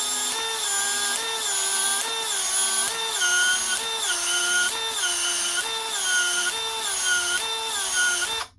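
Cordless DeWalt XR brushless PEX expander (DCE410) running through a series of pipe expansions on 1-inch PEX, a loud steady motor whine that dips in pitch with each rhythmic push, about ten cycles, alone without talk.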